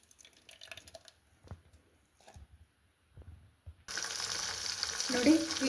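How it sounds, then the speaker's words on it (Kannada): Homemade ghee heating in a pan: a few soft clinks and drips in near-quiet, then a loud, steady, close sizzle that bursts in and holds to the end. "ನೋಡಿ ಈಗ ತುಪ್ಪ ಕಾಯಕ್ಕೆ ಇಟ್ಟಿದ್ದೀನಿ. ಈಗ ಕಾಯ್ತಾ ಇದೆ."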